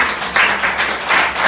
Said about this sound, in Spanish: Ese aplauso que sea para Cristo.